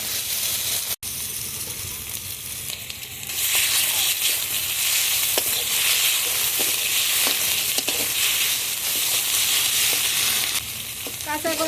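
Ground spice paste fries in hot oil for a rui fish curry with cauliflower, a continuous loud sizzle that swells after a few seconds, with occasional stirring scrapes throughout.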